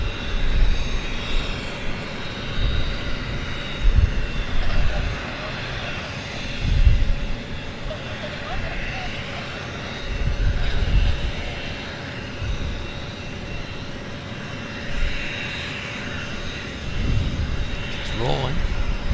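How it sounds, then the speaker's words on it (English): United Airlines flight 1036 for Denver taking off at Vancouver Airport, a sustained jet engine roar with a steady tone running under intermittent talking and a few low thumps. "United Airlines headed to Denver"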